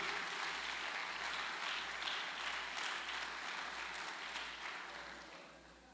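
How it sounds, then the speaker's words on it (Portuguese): A church congregation at a family worship service applauds in praise, a moderately loud wash of clapping over a steady low rhythmic thump, fading toward the end. "Aplaudem-o, aplaudem-o."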